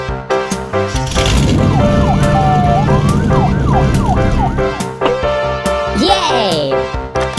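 A loud, continuous wailing U.S. police car siren in a children's animation, with rising and falling sweeps, close by, with bursts of other clatter and sounds layered over it.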